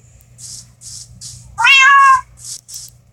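A cat in the Minecraft video game gives one clear, loud meow in the middle, set against a quieter pattern of soft rhythmic background sounds.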